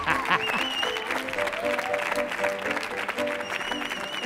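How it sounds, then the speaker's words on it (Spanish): Audience applause for a guest arriving on a live Spanish-language comedy show, loud sustained clapping mixed with music and whistles from the crowd. "Fuerte el aplauso para Marc Lenders."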